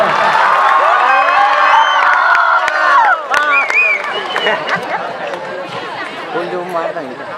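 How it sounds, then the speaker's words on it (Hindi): Students and teachers at a school annual function in Sarangarh, India, cheer and whoop loudly, with excited children shouting and crowd chatter that rises at first and then thins into scattered voices. "सर के उत्साहवर्धन के लिए तालियां बजनी चाहिए जोरदार"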